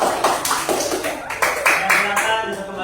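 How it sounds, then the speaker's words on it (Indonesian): Scattered hand clapping from a small group of students in a classroom, a brief burst of uneven claps lasting a few seconds with a voice talking over it. "Tepuk tangan untuk kelompok 2."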